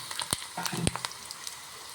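Dried red chilies and fenugreek seeds fry in oil, sizzling and crackling steadily with a few sharper pops, fairly quiet and close, with no voices.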